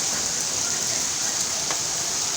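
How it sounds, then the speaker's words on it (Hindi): Season's first rain falls in Karachi as a steady, dense hiss that fills the whole stretch evenly, close and continuous, with no pauses or distinct drops standing out. "हमारे यहाँ कराची में बारिश स्टार्ट हो गई है, मौसम की पहली बारिश।"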